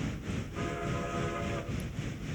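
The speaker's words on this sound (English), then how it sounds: "That one was definitely too weak. That was my old pasture whistle." A locomotive's pasture whistle in a railroad video game sounds one long, steady chord for about a second amid low rolling train rumble, then fades back to the rumble.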